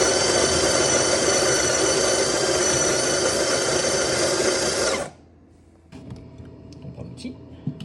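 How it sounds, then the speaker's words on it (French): A De'Longhi coffee machine grinds coffee beans, making a loud, dense grinding whir that runs steadily for about five seconds and then stops abruptly, followed by quieter clicks and handling sounds. "Pour faire descendre le grain de café, on n'a qu'à appuyer vers le fond, comme ça, touc, et le grain de café va se moudre."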